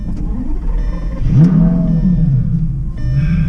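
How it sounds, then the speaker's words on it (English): A 2008 Lamborghini Gallardo engine roars to life close by, then holds a deep, throaty rumble with a brief rise in revs. "that engine fires up nice and strong"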